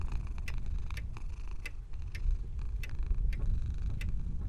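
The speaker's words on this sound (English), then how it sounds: "10 out of 10 game, can pet the cat." A cat purrs steadily and close while being petted in a horror video game, a continuous low rumbling purr with soft periodic clicks, alone without talk.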